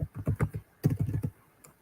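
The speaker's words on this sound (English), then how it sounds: "My typing is not very good today." Fingers typing on a computer keyboard in two quick bursts of close, crisp key clicks separated by a short pause.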